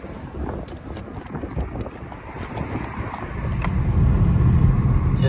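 A Jeep drives along a road through Havelock, a continuous rumbling engine and road noise with wind buffeting the microphone, growing louder and heavier toward the end.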